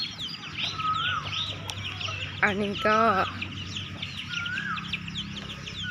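Chickens and geese in a home yard cluck and call continuously nearby, with a louder honking cry in the middle, while a person speaks briefly over them.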